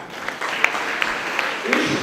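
An audience claps for a graduate at a Star Institute of Professionals graduation ceremony, steady moderate applause with a few sharper claps standing out, heard close and fairly loud, with a voice over it near the end.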